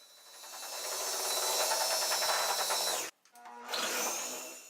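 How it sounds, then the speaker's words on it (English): A Porter Cable polisher fitted with a 3-inch adapter and orange pad runs on a car's paintwork, a steady close whirring drone that cuts out briefly near the end and starts again. "I used the Porter cable with a 3-inch adapter and a"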